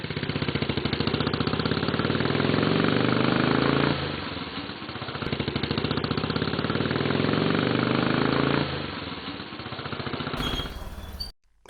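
A Honda motorcycle engine prone to stalling idles at low speed with a rapid, even pulsing throb that swells and dips twice, then cuts out abruptly at the end.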